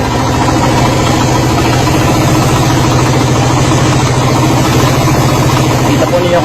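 A Suzuki motorcycle engine with carburetor and muffler, said to run partly on water/hydrogen fuel, idles loudly and steadily up close throughout while someone talks over it.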